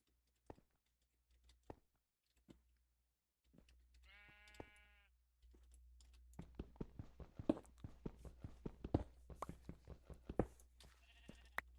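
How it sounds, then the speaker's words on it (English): Game sheep bleat in short clusters around a faint background, followed by a busy run of quick clicks and footsteps with another brief bleat near the end. "But I hear the sheep somewhere in here."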